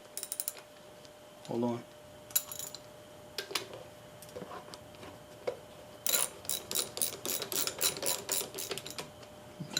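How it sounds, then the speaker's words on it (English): A wrench tightens a bolt on a Brownwall hit and miss engine, giving close metallic ratcheting clicks in quick irregular bursts, with a brief spoken remark early on. "Actually going to tighten it down."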